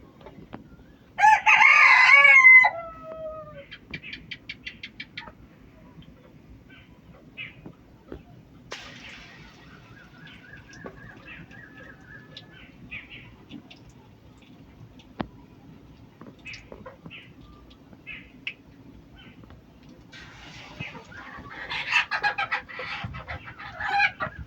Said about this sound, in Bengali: মোরগটা বের হওয়ার জন্য ওগা করতেছে